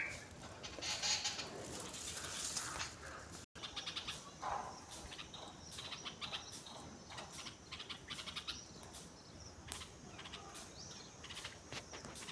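Several birds chirp and call in a home garden where birds come to nest, with bright, scattered tweets overlapping steadily against a soft outdoor background throughout.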